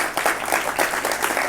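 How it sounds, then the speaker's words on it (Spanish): Audience applause for a senator at a parliamentary forum on Chilean education reform, a short dense burst of clapping filling the room, with no voice over it. "a quien saludamos con un fuerte aplauso"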